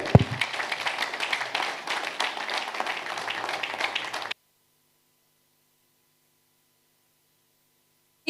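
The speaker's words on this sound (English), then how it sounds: "that applause was for Mr. Daniel" Audience applause at a business conference on clean energy, a dense burst of clapping lasting about four seconds before stopping abruptly into silence.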